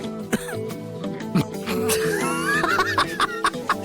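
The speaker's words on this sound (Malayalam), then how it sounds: "ഇപ്പോഴേ ചുമച്ചു തുടങ്ങിയില്ലേ?" A person in a Malayalam TV serial scene coughs and clears their throat in a few short, sharp bursts, close and fairly loud over a steady bed of background music.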